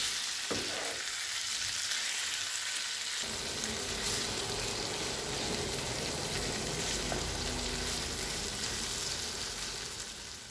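Tawa chicken frying in a pan gives a loud, continuous sizzle, with a spoon stirring and scraping through the pieces partway through, close and steady with no talk.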